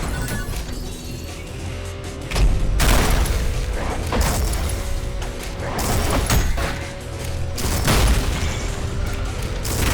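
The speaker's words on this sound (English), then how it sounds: "Oh, it's a shotgun." Repeated loud shotgun blasts in a video game, several booming shots spaced a second or two apart over a steady background of game noise.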